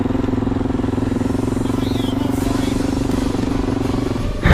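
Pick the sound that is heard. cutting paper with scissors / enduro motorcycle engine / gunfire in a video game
enduro motorcycle engine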